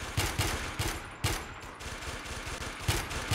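Rapid bursts of gunfire from a weapon in the video game WarMode, several loud sharp volleys spaced irregularly across the stretch with no talking.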